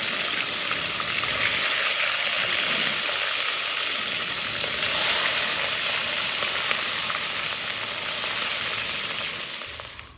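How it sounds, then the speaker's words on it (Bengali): Fish pieces rubbed with salt and turmeric fry in hot oil in a pan, giving a steady, loud broadband sizzle that holds throughout and fades away at the very end. "ফার্স্টে আমি মাছগুলো ভেজে নেব।"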